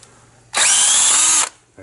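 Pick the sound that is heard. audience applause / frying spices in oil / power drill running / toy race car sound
power drill running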